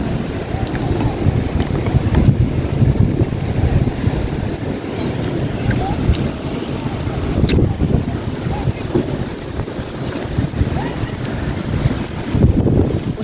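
Wind and sea waves at a seaside spot where street food is eaten facing the water: a steady roar of wind buffeting the microphone over continuous surf, with possible faint voices in the background.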